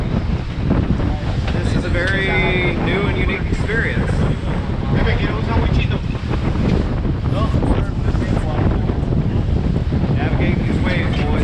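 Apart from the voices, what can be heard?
boat driving through ocean waves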